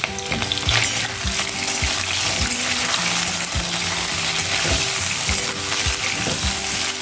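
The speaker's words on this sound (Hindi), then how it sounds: "अब हम इसमें डालेंगे पटल और आलू, ये दोनों को एक साथ ही फ्राई करके निकाल लेंगे।" Parwal and potato pieces frying together in hot oil for a sabzi, a loud, dense crackling sizzle with repeated scraping and clinking of a spatula against the pan, close up, with no voices.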